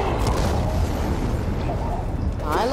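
Fireworks bursting in the video game Dying Light 2, a dense, continuous rumble of booms and pops filling the scene, loud and sustained with a brief rising whistle near the end.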